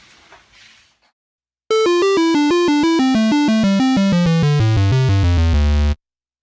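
A bright synth keyboard patch, played dry without insert effects: a rapid descending run of clean, buzzy tones ending on a held low note, preceded by a faint rustle.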